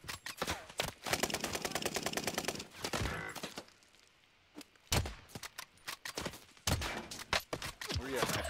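Bursts of video-game gunfire from an enemy shooter ring out loud and close, with rapid fusillades, a brief lull, then more sharp shots, while someone talks over the action.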